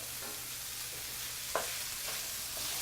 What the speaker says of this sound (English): we're gonna turn this down to medium-low and keep pushing it around the pan